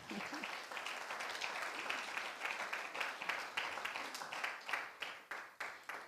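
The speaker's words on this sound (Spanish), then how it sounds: "Denle un aplauso al Señor" A church congregation claps in praise to the Lord, a quiet, somewhat distant patter of many hands with some sharper individual claps, continuing steadily for several seconds.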